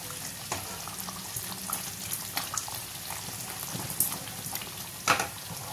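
Leafy greens frying in a pan while ilish bhapa is being cooked, giving a steady, soft crackling sizzle with occasional sharper pops and spits throughout.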